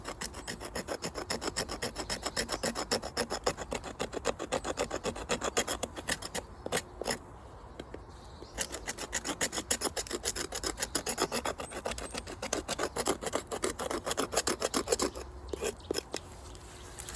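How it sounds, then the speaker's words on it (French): A Fox 103 MB knife scrapes bark off wood for fire-making in fast, steady rasping strokes, close and continuous with a couple of short pauses, no talking. "on va déjà gratter de l'écorce"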